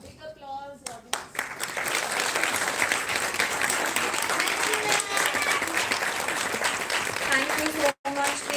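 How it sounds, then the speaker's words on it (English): Sustained audience applause at a health conclave event after a children's performance, dense clapping filling the room with a few brief voices at the start and a momentary drop near the end. "A big applause, audience."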